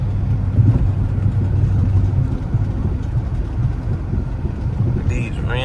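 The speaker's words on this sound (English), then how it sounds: "These rims making so much noise." Steady low road roar and wheel noise from new aftermarket rims on a Chrysler 300 with a Scat Pack swap, heard from inside while driving, continuous and fairly loud with some wind buffeting.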